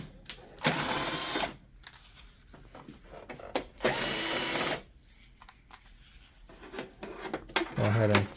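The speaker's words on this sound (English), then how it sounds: "First step we're going to do is remove the side screws that you see there." Side screws being removed from the hard drive housing of a Konica Minolta Bizhub copier, heard as two loud, sustained bursts of an electric screwdriver whirring, separated by quieter handling clicks and rubbing.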